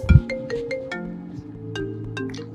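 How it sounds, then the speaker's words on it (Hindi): A phone plays a clear, melodic ringing tone on an outgoing call, with a sharp start and then repeating notes, heard alone. "अमन को कॉल करते हैं।"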